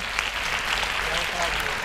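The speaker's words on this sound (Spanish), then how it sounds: "un aplauso para todos" A group applauds at a live community event, giving a steady, fairly quiet patter of many hands clapping for about two seconds without a break.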